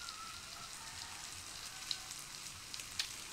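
A pancake fries in a pan with a faint, steady sizzle and an occasional tiny pop or crackle. It is quiet and close, with no voices.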